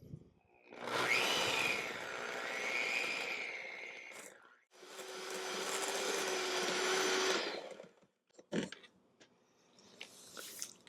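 A stand mixer whirs steadily as it creams soft room-temperature butter, running in two long bursts with a short pause between them, followed by light clinks and knocks.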